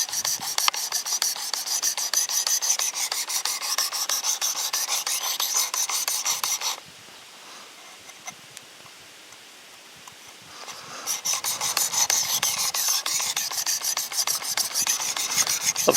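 A kitchen knife is stroked across a Work Sharp Precision Adjust sharpener in rapid, steady rasping passes at close range. The strokes pause for a few seconds, then the rhythmic grinding starts again.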